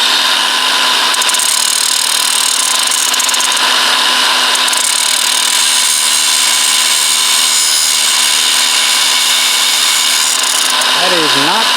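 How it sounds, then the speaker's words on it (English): An angle grinder runs against a mystery metal object, stainless steel or aluminum, in a spark test. A loud, steady, high motor whine holds without a break through the whole stretch. "you've got to run the grinder on it to see if it sparks"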